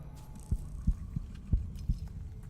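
A slow, thudding heartbeat from the video game Noita pulses low and muffled, about five beats in a steady rhythm beneath a droning hum, with no talking.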